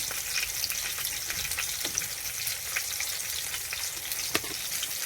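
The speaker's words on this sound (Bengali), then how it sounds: "পনিরটাই দিয়ে দিচ্ছি।" Paneer cubes dropped into a simmering curry sizzle loudly and steadily up close, with faint stirring clicks and small pops, and no voices.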